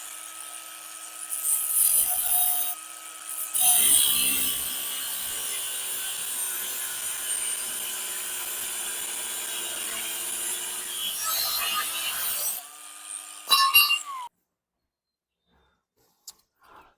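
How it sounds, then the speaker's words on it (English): A power saw cuts through 1 1/4 inch steel angle iron for an antenna mount, a loud sustained grinding whine running about ten seconds with brief pauses and restarts, then stopping into near silence. "Got to do some cutting"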